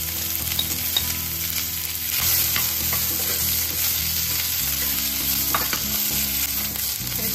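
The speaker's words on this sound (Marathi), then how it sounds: "याच्यासोबतच आपल्याला कांदा घालून घ्यायचा आहे।" Onion frying in hot oil with curry leaves and cashews for a bottle gourd kofta curry, a continuous loud sizzle with occasional stirring scrapes and a steady background hum.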